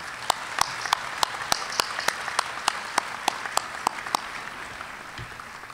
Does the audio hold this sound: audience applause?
yes